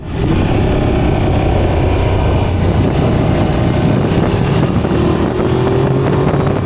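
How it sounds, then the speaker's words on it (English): Heavy, steady wind roar buffeting action cameras at speed, loud and constant with a low rumble underneath and no voices. "it's pretty much all wind noise here"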